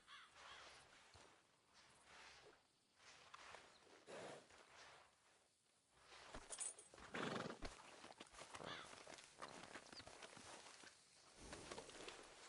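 A horse in the Red Dead Redemption video game clip-clops along and gives loud whinnies and snorts, with crows cawing in the background and no talk.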